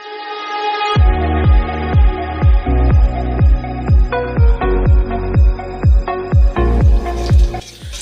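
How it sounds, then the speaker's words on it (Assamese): Potato pieces fry in a pan while being stirred, each scrape of the spoon landing as a sharp rhythmic knock, about a dozen strokes in steady succession over a continuous sizzle. "অলপ সময় আলুকেইডোখৰ লৰাই ল'ম যেতিয়ালৈকে ৰঙা হৈ নাযায়"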